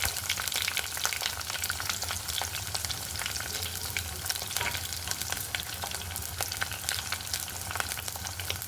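Tomatoes and green chillies fry in oil with browned fenugreek seeds, producing a dense, unbroken crackling sizzle at a steady, fairly loud level, alone without any voices.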